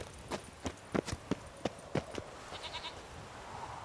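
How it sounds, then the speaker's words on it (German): In The Witcher 3, a goat gives a short bleat after a series of sharp, hollow hoof clops and footstep-like knocks in the game world. "Und noch eine Ziege."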